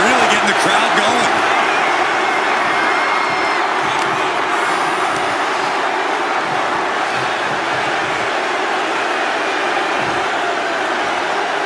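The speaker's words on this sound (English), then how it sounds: "Mark is really getting the crowd going" Virtual arena crowd in the WWE 2K25 wrestling game cheers continuously at a steady, even level throughout, with announcer commentary over it.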